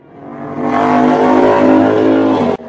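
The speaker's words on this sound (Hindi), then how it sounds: "भालू अपनी बाइक पर सवार होकर किट्टी के घर पहुंच गया" A cartoon motorbike engine as a bear rides over: the engine roar swells quickly, revs loudly and steadily, then cuts off abruptly just before the end.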